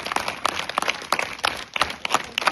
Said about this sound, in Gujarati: એમને આપણે તાળીઓથી વધાવીએ.